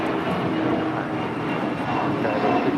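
An Air Canada Airbus A320 departs LAX for Toronto. It makes a brief, steady jet engine roar at moderate distance, with a faint murmur of voices mixed in.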